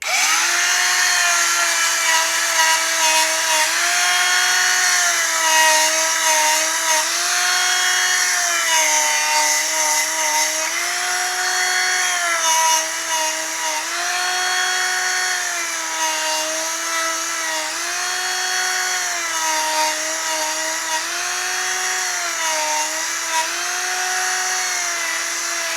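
Steady motorised whine of a power tool spinning sandpaper against 1/8 scale RC car tyres, a continuous loud harmonic drone with slight pitch wobbles running throughout, no talking.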